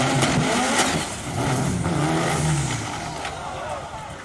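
A supercharged 3800 E85 engine in a Pontiac Fiero revs hard and loud at close range, with a rising, falling engine note under bursts of broadband roar and possible tire noise.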